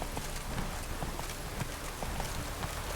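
Horse hooves trotting in The Witcher 3: Wild Hunt, a steady rapid clip-clop over a dense continuous background, fairly loud and close.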